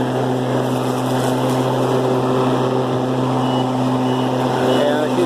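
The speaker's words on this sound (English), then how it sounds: "Now, when we go forward, it mows." Ryobi 30-inch electric riding lawnmower mowing forward, a steady motor and blade hum with sustained tonal whine running unbroken throughout, close by.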